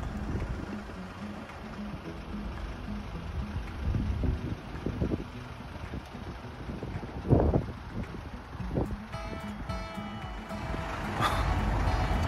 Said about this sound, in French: il pleut et il y a pas mal de vent